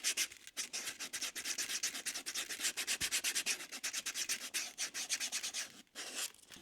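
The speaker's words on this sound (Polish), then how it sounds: "Teraz podszlifuję krawędzie." Edges of a handmade leather coin wallet are sanded in quick repeated back-and-forth strokes, a close, rhythmic raspy rubbing that pauses briefly near the end.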